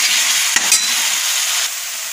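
Chilli powder and masala frying in oil, a bright, dense, loud sizzle that holds steady throughout, broken by a couple of brief utensil clinks near the middle.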